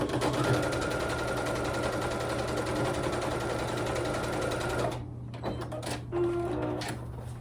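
A sewing machine stitches fabric in a steady, fast mechanical whirr for about five seconds, then stops and leaves a few quieter clicks and handling noises.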